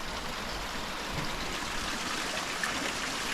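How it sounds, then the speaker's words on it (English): Stream water flows steadily beside Clear Creek Hot Spring, a soft continuous rushing trickle heard at moderate distance with no voices. "So the water is actually from the stream."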